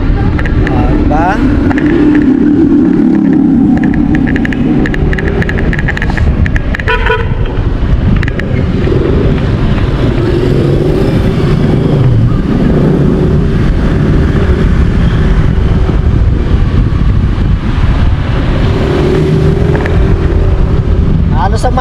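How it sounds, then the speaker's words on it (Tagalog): Busy street traffic in Plaza Santa Cruz on a bright New Year's night, mostly motorcycles, with engines droning steadily throughout, horns tooting now and then, and people talking over the din. "Halos ang makikita nyo, puro mga motor yung makikita nyo, no? Sa kalsada."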